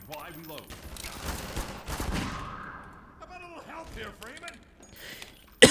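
Rapid gunfire bursts from the video game Half-Life 2: Episode One rattle out in clusters, mixed with game effects and someone talking over the action.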